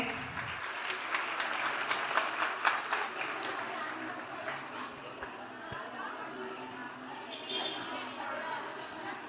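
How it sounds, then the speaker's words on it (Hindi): A school annual-function audience applauds to greet a guest, with a burst of fairly quiet clapping that fades into murmured chatter and background noise from the hall. "जोरदार तालियों से सर का अभिवादन कीजिए।"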